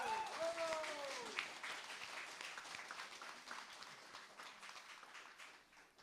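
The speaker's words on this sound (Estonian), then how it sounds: "Ja aplaus." A crowd claps at an art school graduation ceremony, a moderate burst of applause that slowly fades over several seconds.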